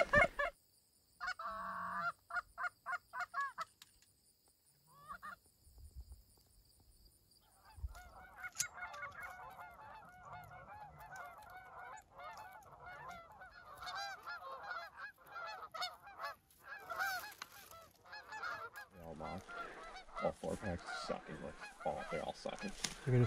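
Geese honking over a tall hay field during a goose hunt: bursts of repeated, close honks early on, then a longer stretch of calling, with people talking quietly in between.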